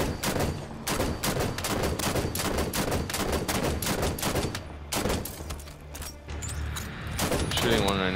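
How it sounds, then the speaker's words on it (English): Sustained rapid gunfire in the video game Halo 5 as a player shoots a Guardian, a loud continuous stream of shots with brief gaps and voices talking over it. "I'm shooting a guardian right now"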